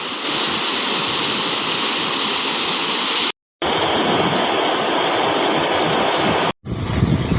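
Flood-swollen waterfalls roar loud and constant beside a river in spate in the Konkan. The rushing water fills every moment, broken only by two brief cuts to silence.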